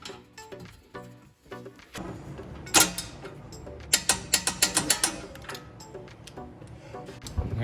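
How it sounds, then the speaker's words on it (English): A ratchet wrench tightens a ball joint nut on a Ford Mustang GT500 suspension, producing bursts of sharp metallic clicking up close, with a rapid run of ratcheting strokes in the middle. "torque this nut down to 59 pound-feet"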